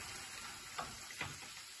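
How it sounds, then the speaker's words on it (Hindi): Ghee tempering poured into dal for Rajasthani daal baati, a soft steady sizzle with a few brief crackling bursts, faint and close, with no talk. "अब मैं डाल रही हूँ इसके अंदर घी का एक अच्छा सा छौंक लगाऊंगी मैं दाल के अंदर"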